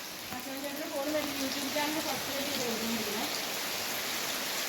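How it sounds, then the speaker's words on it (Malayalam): Steady rain hisses across the whole clip, with a voice speaking faintly underneath for a few seconds. "അതിനാണെങ്കിൽ മഴ വീഴുന്നുമുണ്ട്"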